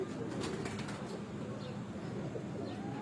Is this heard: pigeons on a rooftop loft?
yes